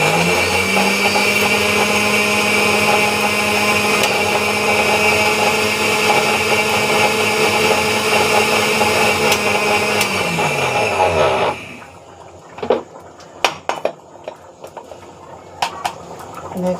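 Electric blender grinding whole spices such as coriander and cumin into a fine powder, a loud continuous high whine for about eleven seconds that winds down, then clattering and tapping as the jar is handled.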